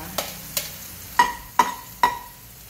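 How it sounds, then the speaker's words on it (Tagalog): Garlic and onion sautéing in a pan, heard as a series of about five sharp stirring clinks and scrapes of a utensil against the pan over a faint sizzle, close and evenly spaced. "igigisa na natin ang bawang sibuyas"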